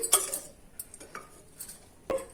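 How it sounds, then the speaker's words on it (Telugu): Chicken biryani with fried chicken pieces being stirred and mixed in a pot, giving a few light scrapes and metallic clinks of a spoon against the vessel, spaced irregularly and close. "బిర్యానీ మొత్తం ఒకసారి కలిపేసుకుందాం"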